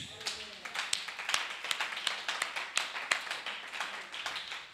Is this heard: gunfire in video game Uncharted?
no